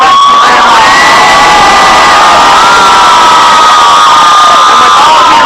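A large, enthusiastic crowd cheers and whoops at a Texas vs. OU torchlight rally before the Red River rivalry, a loud, sustained roar with high shrill voices carrying throughout.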